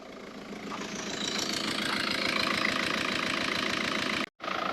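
A VW Golf Mk5 engine idles steadily after a timing belt repair, a close, even mechanical rumble with a regular pulse that runs without a break until a brief cut near the end.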